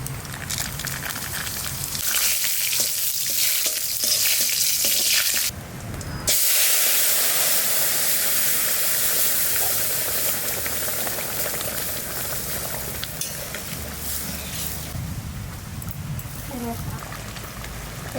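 Mustard oil tempering for moong dal with bay leaf, dried red chillies and cumin gives a steady, close spitting hiss that cuts out briefly partway through and then resumes.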